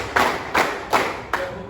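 Class of secondary school students in a guidance counseling session clapping hands together in a counting game, four crisp group claps in a steady rhythm, close and fairly loud, no talking.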